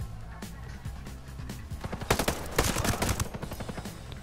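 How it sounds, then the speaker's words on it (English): Automatic gunfire in Ghost Recon Breakpoint starts as scattered shots, then breaks into loud, rapid bursts in the second half, with a low rumble of background noise underneath. "Oh, they shooting right there."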